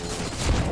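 A grenade detonates in a Counter-Strike match on the Nuke map, a brief, dense burst of blast noise with a low thump near its end.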